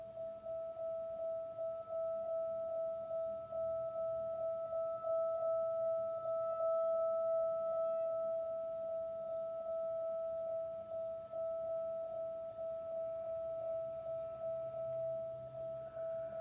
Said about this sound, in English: So this is the sound of the medium bowl with the medium-sized mallet.